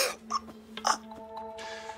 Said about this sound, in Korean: 배에 힘줘서 기침해 보실래요?